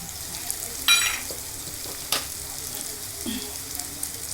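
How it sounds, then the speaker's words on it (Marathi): Ground spices, turmeric, red chili powder, garam masala and coriander powder, stirred into hot oil in a frying pan with a few scrapes and clinks of a spoon over a soft sizzle, close and fairly quiet. "व्यवस्थित हलवून घ्यायचं, छानपैकी सगळीकडे लागेल असं."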